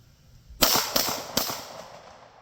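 Three sharp gunshots from a Ruger P89 pistol and a revolver on an outdoor range crack out in quick succession, each loud report ringing briefly before the next.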